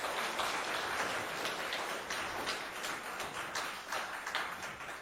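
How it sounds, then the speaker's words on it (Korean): A church congregation applauds in congratulation for Guseul, a steady, dense crackle of many hands clapping that stays even and fairly loud for the whole stretch, with no talk over it. "다시 한번 구슬을 축하해 준 내용으로 박수 한번 보내주면 고맙겠습니다."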